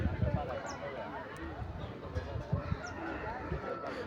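A rooster clucks over the steady din of a busy livestock market in Rayachoti, Kadapa district, with people talking nearby throughout.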